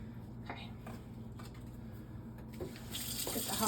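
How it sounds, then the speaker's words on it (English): Hot water runs steadily from a tap during a clean-up while a crested gecko enclosure is being set up. The flow swells louder near the end, with faint clatter around it. "Get the hot water going."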